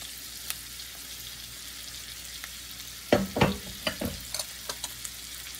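Onion and plenty of garlic fry in a pan, a low sizzle under stirring that turns into several loud scraping knocks and clatters near the middle, then smaller spaced taps, with no talk.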